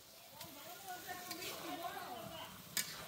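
Meat is stirred in a cooking pot at a home gathering. A spoon scrapes and knocks against the pot in irregular strokes over a soft sizzle, with a sharp clink near the end and faint voices nearby.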